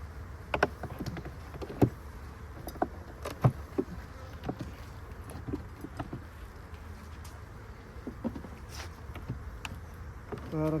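Honey bees buzz steadily at a hive on a cool, cloudy day, with individual insects zipping close past in brief louder whines over a low hum.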